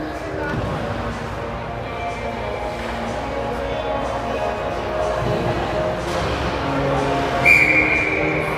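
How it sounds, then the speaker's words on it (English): A referee blows a whistle in a youth ice hockey rink, a short sharp blast near the end, heard over arena crowd noise and ongoing commentary. "The whistle is blown"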